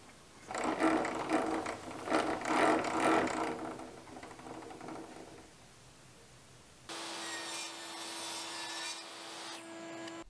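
A table saw cuts a groove into a wooden board, with a loud rough whine of blade through wood for several seconds. The whine fades to a quieter idle, then a steady motor hum continues alone.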